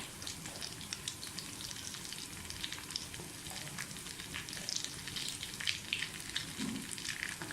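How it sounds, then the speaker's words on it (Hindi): Potato and chicken cutlets with cabbage frying in a pan of oil, giving a steady, close sizzle and crackle that runs unbroken from start to finish with no talking. "जब ये थोड़ा सा फ्राई होना शुरू हो जाए तो अपने कलर चेंज करना शुरू हो जाए"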